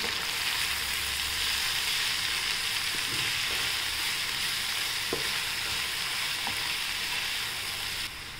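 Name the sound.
sautéing garlic and fenugreek greens in a pan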